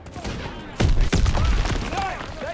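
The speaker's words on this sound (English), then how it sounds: "Gunfire! We must be near our guys." Gunfire in the Call of Duty video game, a burst of loud, close shots and booming blasts crackling in quick succession amid battle noise.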